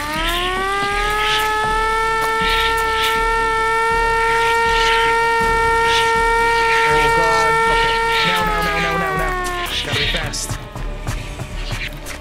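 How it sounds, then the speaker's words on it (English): Siren in the World War I horror game Ad Infinitum, a sustained rising-and-holding wail with strong harmonic tones that rings loudly for about nine seconds and then winds down into scattered noise. "We'll use the siren to attract them, yeah."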